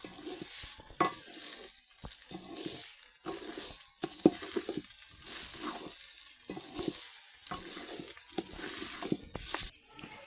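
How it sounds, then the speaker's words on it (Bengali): Ginger, garlic and onion paste fries in a pan, giving a soft continuous sizzle broken by intermittent stirring scrapes, fairly quiet and close, with no talk. "এখন এই মশলাটা দিয়ে ভালো করে ভেজে নিব"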